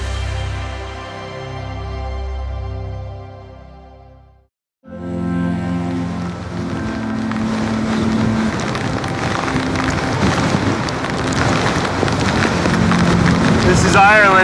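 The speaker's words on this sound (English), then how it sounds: "Super cold, hail," Rain and hail falling in cold weather in Ireland, a steady broadband patter and hiss that drops out briefly near the start, then continues loud and dense with gusting noise throughout.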